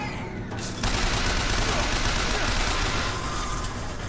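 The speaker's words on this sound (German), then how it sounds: "Schuss hier auf unser Maschinengewehr." Sustained machine gun fire in BioShock Infinite, a dense, loud fusillade that starts abruptly and rattles on continuously, with no pause, until the end.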